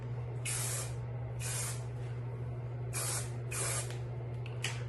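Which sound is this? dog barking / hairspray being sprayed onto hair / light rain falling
hairspray being sprayed onto hair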